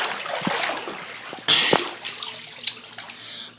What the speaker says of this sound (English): I like have to like drain the water